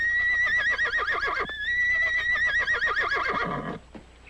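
A saddle horse gives a long, loud, quavering whinny close by, a brief pause, then a second trembling neigh that trails off into a snort and quiet.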